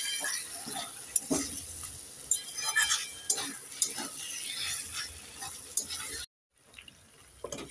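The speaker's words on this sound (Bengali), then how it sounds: "এবার নেড়ে চেড়ে মশলার সাথে মাংসটাকে আমি 6-7 মিনিট ভালো করে কষে নেব।" Meat being stir-fried with spices in a pan for meat pitha: a sizzle under scraping and stirring, with occasional clinks of a utensil against the pan and a short silent gap near the end.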